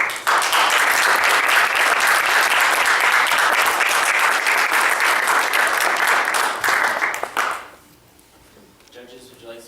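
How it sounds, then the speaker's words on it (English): Loud, sustained applause from a crowd at a live debate event, dense clapping for about seven seconds before fading quickly into quiet. "Let's have a round of applause for all of us."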